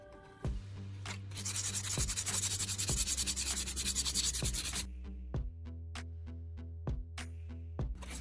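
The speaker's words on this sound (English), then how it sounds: "I'm using a folded piece of sandpaper submerged in the solution to scrub off the remaining rust." Folded sandpaper, submerged in a solution, scrubs rust off an old knife blade in repeated rhythmic back-and-forth rasping strokes, close and clear over a steady background music bed.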